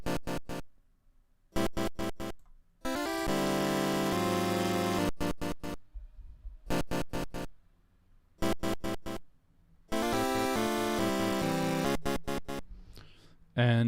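Bright synth chords pulse in short rhythmic bursts, broken by brief gaps and a few sustained stretches, with no talking.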